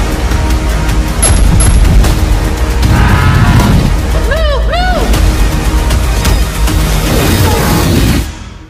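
Dense movie-trailer mix of booming blasts and shot-like impacts over a heavy music score, with swooping effects near the middle before the sound cuts off at the end.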